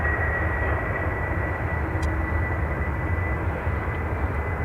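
Ryanair airliner passing directly overhead near Dublin Airport, a steady moderate engine rumble and broadband roar throughout, with no talking.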